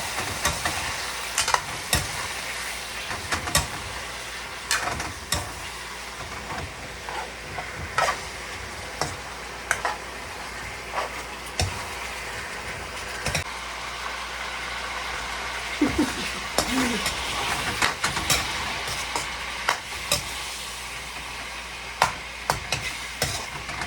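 Liver fries in a pan under a continuous sizzle, broken by repeated scraping stirs at a slow, irregular rhythm that run throughout, with no one talking.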